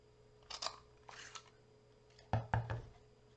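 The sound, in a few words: trimming a paper treat tag with scissors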